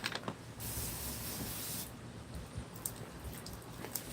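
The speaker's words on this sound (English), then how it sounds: "Every so often, I'm going to spray it in for you." A broad hiss of water spraying onto concrete for an Atlas stone runs for over a second, followed by scattered drips and splashes in a quiet space.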